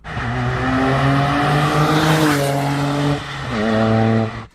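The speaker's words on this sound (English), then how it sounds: "with the gasoline particulate filter removed and with a nice exhaust system, it actually sounds pretty decent, as you can hear now." Toyota GR Yaris three-cylinder engine with its gasoline particulate filter removed and an aftermarket exhaust, revving loudly and close by, pitch climbing then dipping and rising again over a few seconds with no talking.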